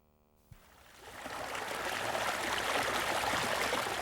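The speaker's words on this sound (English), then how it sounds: "Water trickling through a beaver dam, a familiar sound in the north" Water from a beaver-dammed stream trickles and rushes steadily, swelling from near quiet after a soft knock into a continuous close wash of flowing water with no voices.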